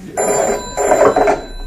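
A telephone bell rings twice in a steady double burst, loud and close with no talk over it, just before an answering-machine greeting begins.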